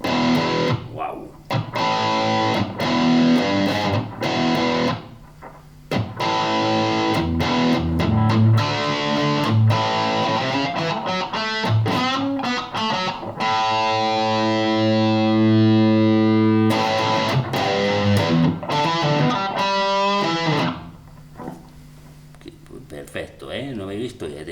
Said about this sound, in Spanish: un pedal de distorsión, a ver cómo suena esto